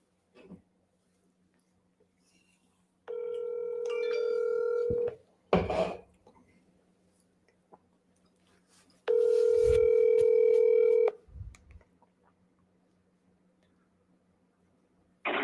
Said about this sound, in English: I'm going to call on the cell phone so you guys can hear the call